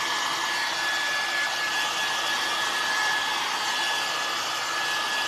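A hair dryer blows steadily and loudly at close range, a constant whirring rush of air used to dry a rustic sunflower craft, with no talking.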